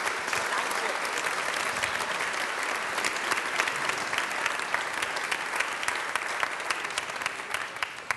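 A crowd applauds steadily inside a car dealership, dense clapping filling the whole stretch at an even level, fairly distant and uninterrupted.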